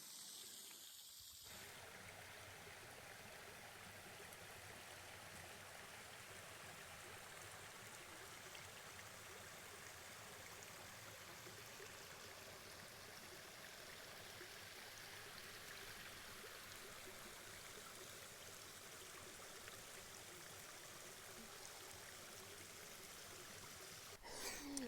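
A waterfall in the Australian wilderness, heard from a clifftop, makes a steady, faint rushing roar that holds unbroken for the whole stretch.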